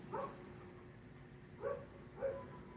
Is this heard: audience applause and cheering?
no